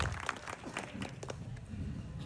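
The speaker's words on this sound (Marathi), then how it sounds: "एकदा जोरदार टाळ्या किशोरदादांसाठी आपण वाजवा." An audience at a Marathi poetry gathering claps for a poet, a brief burst of faint, somewhat distant applause with scattered hand claps.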